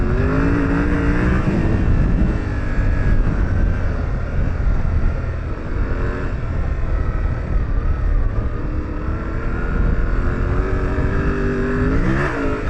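An adventure motorcycle ridden off-road with traction control and rear ABS switched off, its engine droning and revving loudly and continuously close by, with wind roar blending in throughout.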